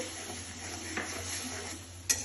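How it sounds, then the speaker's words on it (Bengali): Spices such as turmeric, coriander and cumin powder are stirred with a little water in a pan while cooking a tangy boal fish curry with olives and potatoes, giving soft scraping and clinks of utensil against cookware, plus a sharper knock near the end. "নাড়াচাড়া করবো কিছুক্ষণ মশলাটা কষানোর জন্য"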